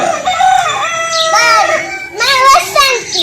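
A rooster crows twice, loud and close, each call a long wavering cock-a-doodle-doo with a brief pause between.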